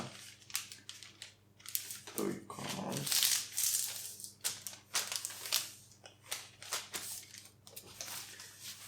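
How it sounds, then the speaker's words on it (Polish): Baking paper being folded for cutting out gingerbread cookie shapes gives crisp crinkling and crumpling rustles in uneven bursts, close by, with a person speaking briefly partway through. "Składam sobie papier do pieczenia."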